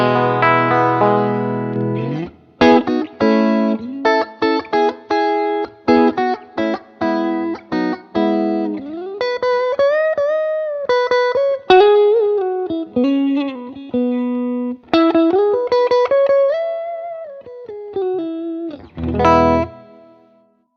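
Electric guitar played through a UAD Enigmatic '82 Overdrive amp on its FET input, with bright, slightly overdriven tone: clipped staccato chords at first, then sustained bending lead notes and a final strummed chord, alone with no voices.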